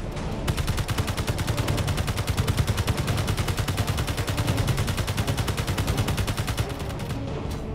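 Rapid automatic gunfire in the Space Engineers video game, a dense, evenly spaced stream of shots rattling steadily for several seconds before cutting off.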